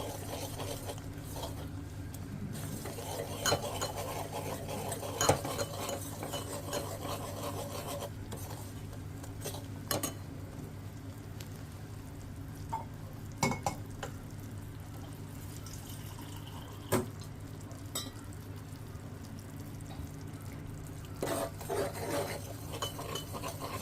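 Jaggery cooking down in oil in a pan while being stirred, a steady low bubbling and scraping rasp with occasional sharper clicks of the utensil against the pan, fairly close and continuous with no talking.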